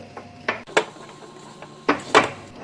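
Jowar flour dough stirred in a pan on low heat, a handful of sharp metallic scrapes and clanks of a utensil against the pan, spaced irregularly with quiet gaps between.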